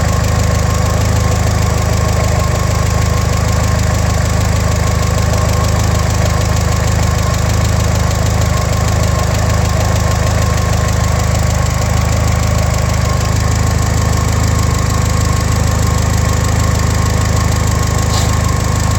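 Rebuilt car engine idling as it warms up, a loud steady low drone with a rough knocking texture running unbroken and close, no talk over it.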